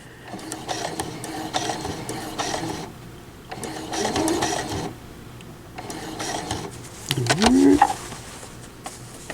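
A sewing machine stitches a scrappy Sweet Pea quilt block in continuous runs. Its whirring mechanical chatter rises and falls over several bursts at close range.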